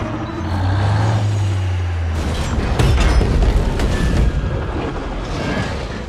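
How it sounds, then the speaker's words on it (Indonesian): A truck slams into an oil tank in an action film, a deep engine drone and mechanical clatter giving way to a loud heavy boom and sustained rumbling roar with scattered debris crashes, no voices. "Lou langsung menabrakkan truknya ke tangki minyak hingga menimbulkan ledakan yang dahsyat"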